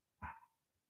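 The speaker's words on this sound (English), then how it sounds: "Whoever has that dog out there, you're killing me." One short bark from a dog outside, near enough to be clear and moderately loud, then quiet.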